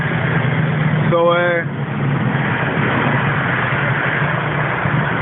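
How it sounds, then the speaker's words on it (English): A passing tractor engine, a steady low mechanical drone rumbling throughout at moderate distance, with a brief tonal warble near the start, under a background of speech. "That's noise from a passing tractor."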